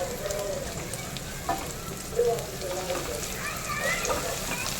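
Fenugreek seeds sizzle in hot oil as tempering for a Gujarati sweet-and-sour white kadhi, a steady close hiss and crackle with a voice speaking over it.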